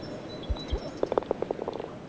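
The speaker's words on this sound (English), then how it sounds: "that's the sound of Riley tapping in there as he gets his par" A golf ball is tapped in with a putter for par during the final round of a 1995 professional tournament in Andalucia, heard as a few light, close clicks and knocks, followed by a soft ripple of applause.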